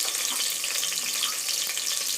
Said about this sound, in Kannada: ಈಗ ಎಣ್ಣೆ ಚೆನ್ನಾಗಿ ಕಾದಿದೆ ಈಗ ನಾವು ಆನಿಯನ್ ಸೇರಿಸ್ಕೊಳ್ಳೋಣ